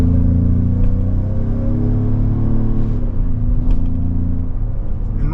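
A 2025 Ford Explorer ST-Line 4x4 driving down the road, heard as a loud, steady low engine rumble and road drone from inside the vehicle, alone and unbroken.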